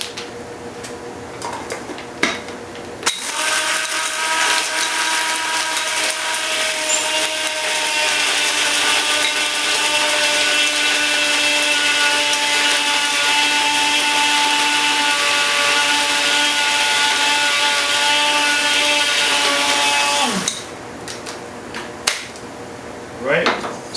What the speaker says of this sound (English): coffee grinder works really well.